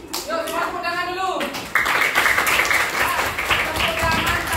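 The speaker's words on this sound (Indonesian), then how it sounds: "Yuk, semua tepuk tangan dulu" A group of people clapping their hands together, a dense burst of claps following a stretch of voices, with talking or singing continuing over the clapping.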